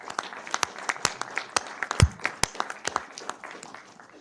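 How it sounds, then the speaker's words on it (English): A small audience at a planning commission meeting gives a round of applause for a departing commissioner, with irregular individual claps of varying loudness scattered across a few seconds, close and distinct in a room. "So I would ask that we give MJ a round of applause for his work and contributions."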